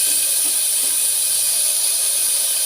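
Sliced onions go into hot oil in a pan where mustard seeds are already popping, producing a loud, dense, steady hissing sizzle close by.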